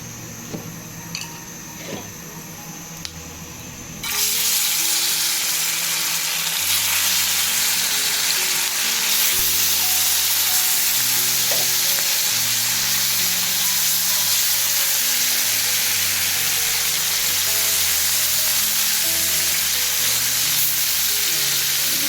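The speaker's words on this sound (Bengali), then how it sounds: "মাছ ভাজি করব।" Fish frying in a pan bursts into a loud, steady sizzle a few seconds in after a quieter start, the dense crackle continuing unbroken over a faint low tonal background.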